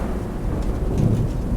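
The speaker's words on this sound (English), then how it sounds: "Suddenly, a peal of thunder shatters the stillness, followed by a howling wind that shakes the tower to its foundations." A peal of thunder in the Warhammer Chaosbane video game rolls as a low, continuous rumble with a hiss of rain or wind over it. It stays steady and fairly loud, swells slightly in the middle, and no one speaks.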